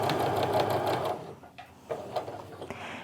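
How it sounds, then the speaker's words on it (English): A sewing machine stitches a quilt seam in a steady, close, buzzing run that slows and stops partway, followed by a few quieter intermittent stitches and handling sounds. "We'll just sew the rest of the way down."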